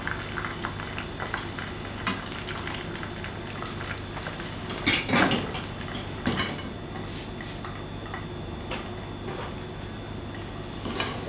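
Ingredients for buttered chicken are beaten in a bowl, close clinking of a utensil against the dish in a steady rhythm with a few louder knocks and a faint background hum.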